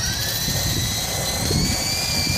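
A remote control helicopter flies close overhead, its rotor and motor giving a steady, loud whine with a high tonal pitch that holds throughout, with no talking.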